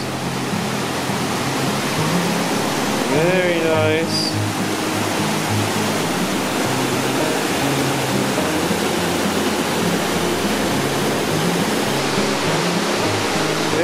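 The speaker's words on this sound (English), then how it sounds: "Already at some super pretty waterfalls." Waterfall in Sundance Canyon, Banff: a steady, loud broadband rush of falling water fills the whole stretch without a break, with someone briefly speaking over it near the start.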